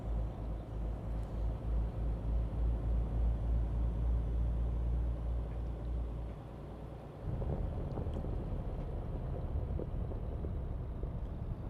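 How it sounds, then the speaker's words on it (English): Truck tyres rolling over a rough stretch of road in a trucking video game, a deep rumbling drone with a pulsing low throb that drops away briefly, then returns as a steadier rumble. "did you hear the tyres when they went over that bit of road then?"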